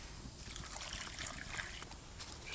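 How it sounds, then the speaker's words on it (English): Water splashes and trickles steadily into a bush pot of Christmas stew with carrots and sprouts over an outdoor campfire, a continuous hissing pour heard close up with no talking. "now it's just a case of getting a bit of water in"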